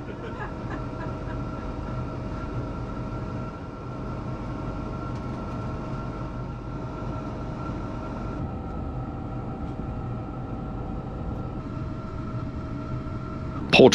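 A passenger train rolls steadily along the rails toward a junction station, a continuous rumble with a faint tonal hum running the whole time and a sharp brief knock at the very end.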